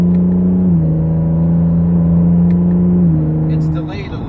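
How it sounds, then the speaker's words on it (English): A car engine in sport mode holds a steady drone, then drops pitch in soft, slightly delayed gear shifts near the start and again around three seconds, fading toward the end. "the way that it shifts, it's like it shifts softer on on sport"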